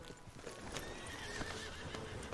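A horse in a cowboy video game whinnies while hooves clop steadily beneath it, all fairly faint with no one speaking.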